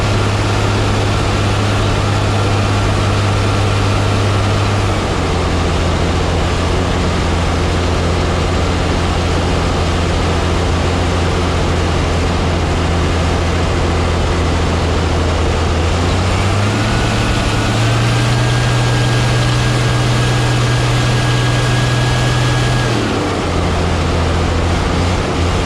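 A diesel engine that is burning oil runs loud and steady, then throttles up to a higher, strained pitch for several seconds before dropping back, sounding rough and choking throughout.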